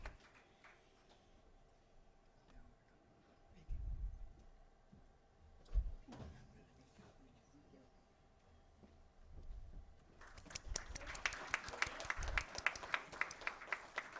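Applause from an audience at a memorial lecture breaks out after about ten seconds of quiet room tone with a few scattered knocks, then continues as a dense, moderately loud clatter of many hands to the end.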